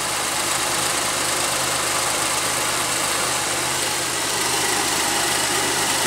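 A Pontiac Aztek engine idles steadily with a faint, intermittent rattle beneath its continuous broadband hum, fairly loud and close, with no voices present.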